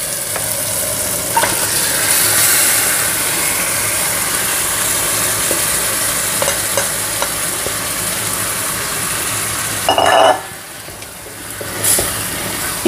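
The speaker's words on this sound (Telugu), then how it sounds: "సో ఇప్పుడు మటన్ వేసేస్తున్నాను" Mutton drops into browned onions in a pot for mutton pulav, setting off a loud, steady sizzle with a brief burst of stirring near the end.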